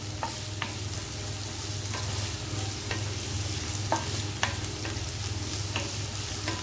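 Roughly chopped onions sizzle steadily in a pan while a spoon stirs them, with scattered scraping taps over a constant low hum, close and without talk.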